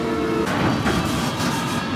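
A London Underground train standing at the platform at Notting Hill, a steady low rumble with rattling mechanical noise that holds loud and close for two seconds, a brief hiss of air swelling midway.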